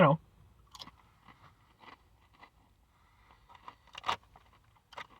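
Crunchy bites of Flamas chili limón tortilla chips, a few sharp crunches and chewing spread over several seconds, close and fairly quiet, with soft talking underneath.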